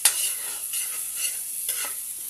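Garlic and onions with their green leaves sauté in a pan for pancit habhab, giving a continuous close sizzle with soft stirring scrapes throughout.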